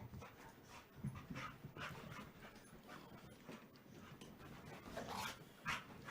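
A dog pants rapidly and steadily while playing, quick rhythmic breaths close by at low volume, mixed with scuffling and small whimpers.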